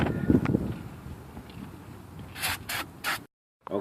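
Dirt and rust being brushed off the front hub assembly of a 2005-2010 Chevy Cobalt, a close, continuous gritty scrubbing followed by three short sharp bursts of hiss before it cuts off.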